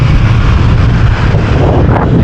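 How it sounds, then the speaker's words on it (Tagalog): Strong wind buffets the microphone beside an airport runway, a loud, continuous roaring rumble that fills the whole stretch with no pauses or talk. "Ayan, lakas ng hangin."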